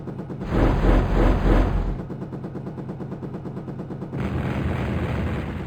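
In the Jane's Longbow helicopter game, a salvo of eight rockets fires in a rapid rippling burst of deep, rumbling launches, loud and close, followed by a lower continuous rumble with a brief renewed surge near the end.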